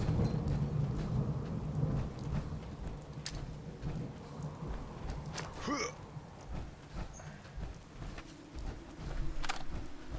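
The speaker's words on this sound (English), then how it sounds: "This thunder is loud." Loud thunder rumbles through a rainy storm in the Fallout 4 video game world, with a steady rain wash and a few sharp cracks, while someone talks intermittently over it.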